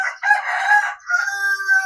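A rooster crows nearby, a loud, ringing cock-a-doodle-doo with a short break in the middle, heard on its own.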